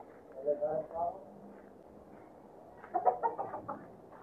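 A chicken clucks in two short bursts, once near the start and again later, fairly faint, with a quiet gap between.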